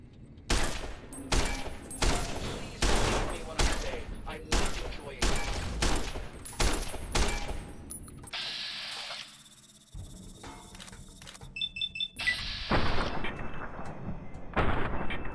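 Fallout New Vegas gunfire booms out as loud, heavy shots in a regular sequence, followed by a quieter stretch with faint chirping ambience and then another short burst of fire.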